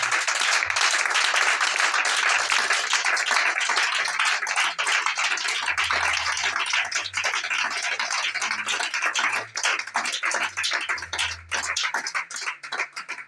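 A church congregation at a spiritual service applauds and cheers in a dense, sustained wash of clapping and voices that runs loud and unbroken throughout, with low rumbling bursts beneath.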